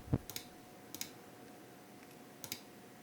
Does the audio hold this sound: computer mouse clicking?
yes